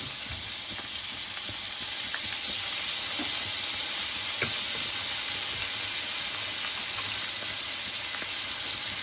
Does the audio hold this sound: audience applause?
no